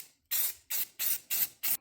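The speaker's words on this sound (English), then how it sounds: "A quick coat of semi-gloss black spray paint does wonders." Five short hissing bursts of semi-gloss black spray paint onto hinges, evenly spaced and close, each a sharp aerosol spray with brief silences between.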